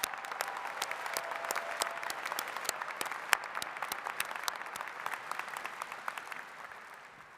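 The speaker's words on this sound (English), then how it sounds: "Please join me in giving him another big round of applause." Steady applause from an audience at a university engineering undergraduate graduation ceremony, dense rapid clapping held at an even level throughout and tapering slightly toward the end, with no talk over it.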